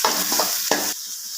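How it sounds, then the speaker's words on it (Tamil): Chopped tomato sautéing in a pan with ivy gourd fry being cooked, brief scraping stir strokes over a steady close sizzle, the stirring stopping after about a second while a faint hiss carries on. "இப்போ ஒரு சின்ன தக்காளி ஒன்று போட்டுக்கலாம் நல்லா வதக்கி விட்டுட்டு"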